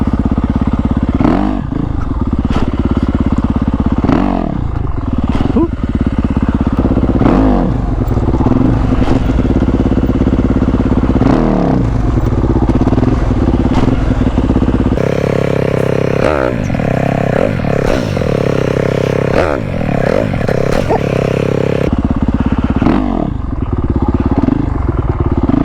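A motorcycle pulling away as the clutch is let out, its engine loud and close throughout with a steady drone, rising and falling revs and some clatter, no talking.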